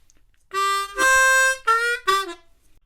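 A short bluesy harmonica riff on a C harmonica: a few bright, reedy held notes with brief breaks between them, played alone and close.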